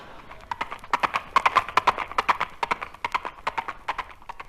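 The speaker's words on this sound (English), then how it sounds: "No, that's Granny, the Wonder Horse." Horse hooves clip-clopping as a sound effect in a 1960s BBC radio comedy, a brisk, steady run of close, loud clops that continues throughout without a break.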